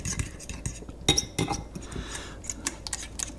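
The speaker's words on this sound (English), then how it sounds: "Try and scrape down the edges a little bit." Utensil scraping and clinking against a bowl while shredded mozzarella is stirred into chaffle batter, a few sharp close taps and scrapes over a soft, steady stirring texture, with no talking.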